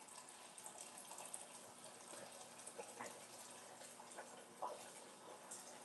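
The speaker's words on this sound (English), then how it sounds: "I'm running some hot water in this mixing bowl." Hot water runs from a tap into a kitchen mixing bowl, a faint, steady splashing stream with small gurgling bursts, continuous and without talk.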